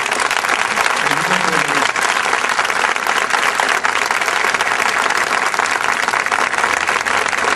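Thick sustained applause from a theatre audience greets a stage sketch, a continuous loud wash of many hands clapping with a brief voice near the start.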